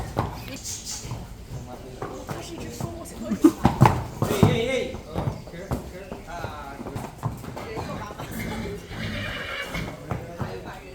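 Horses on a guided trail ride in the countryside near La Fortuna, Costa Rica, neigh and whinny loudly several times while hooves clip-clop steadily on the ground. Riders chatter and talk faintly throughout.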